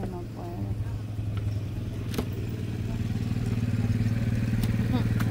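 A motorcycle engine runs with a steady, close, rumbling drone that builds slightly toward the end, with voices talking over it and an occasional clatter.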